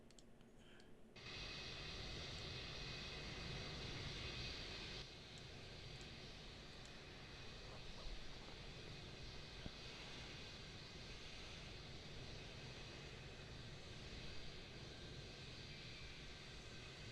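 Aircraft engine drone from Microsoft Flight Simulator at Edinburgh airport, a faint steady hum running throughout after a quiet start, with small clicks.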